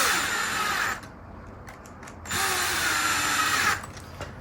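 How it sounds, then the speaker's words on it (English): A power drill driving screws while building a Traxxas Slash 2WD RC car whirs in two loud bursts of about a second each, separated by a short quieter pause with faint clicks, close by. "Use the big drill, nice and quick."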